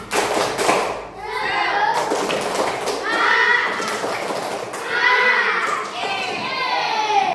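A group of children performs the tepuk semangat clapping cheer in a classroom. Their voices chant together in loud rhythmic phrases, mixed with bursts of hand claps and thumps, close and lively.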